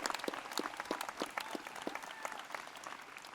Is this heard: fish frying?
no